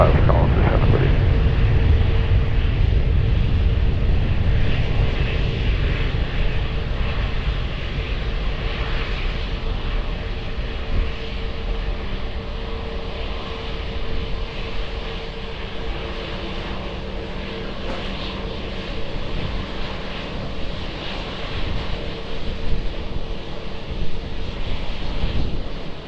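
An airliner taking off from a runway at Lisbon Airport, a loud, broad engine roar heard from a distance that slowly eases over about half a minute, with wind buffeting the microphone.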